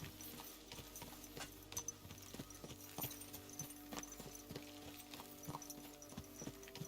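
Horse hooves clip-clopping during riding in the medieval game Kingdom Come: Deliverance 2, a steady, faint rhythm of repeated hoof knocks over low background ambience.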